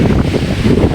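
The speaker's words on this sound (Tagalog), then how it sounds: "Medyo mahangin." Steady wind buffets the microphone on a Boracay beachfront, a continuous low rumbling roar with surf mixed in, loud and unbroken with no talk.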